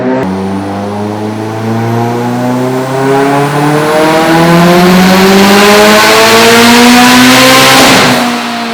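A Mitsubishi Evo X with a twin scroll 6466 ETS turbo kit on a stock block makes a pump gas dyno pull. The very loud engine and turbo roar rises in pitch for about eight seconds, then cuts off abruptly.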